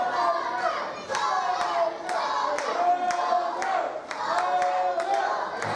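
A wrestling crowd at an NHW pro wrestling match yells and chants continuously, a dense roar of voices punctuated by sharp thuds from the ring.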